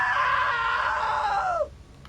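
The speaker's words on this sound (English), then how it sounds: "Now that was a great scream" A long, high shrill scream from a character in the video game What Remains of Edith Finch, sustained loudly for about a second and a half and then bending downward before cutting off abruptly, leaving quiet ambience.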